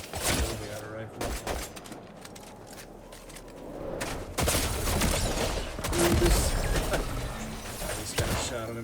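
Rifle gunfire in a video game, with several loud bursts of shots scattered through a busy battle scene under a voice talking.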